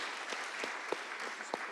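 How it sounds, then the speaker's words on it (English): Audience applause for the speakers at the close of a European cultural diversity panel discussion, a steady dense clapping wash with a few sharper individual claps standing out. "do a big round of applause to our speakers"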